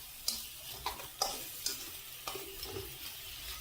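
Liver fries in a thin-bottomed pan as a utensil stirs it, giving a soft steady sizzle broken by several light scraping strokes at close range, with no talk.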